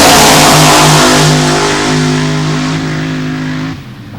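The Quicksilver Jeep, a 2,300-pound Milodon-powered Jeepster drag racer, accelerates hard with a loud, roaring engine whose pitch climbs steadily before the sound drops off abruptly.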